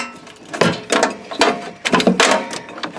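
Large octal plugs are pulled from Bakelite sockets on a 1947 Crosley 348CP Swing-A-View television chassis, producing several close, loud scraping and clicking bursts spread over a few seconds.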